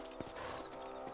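Horse hooves clip-clop at a steady walking pace in the Western game Red Dead Redemption, heard against a constant background bed of game audio with no talking over it.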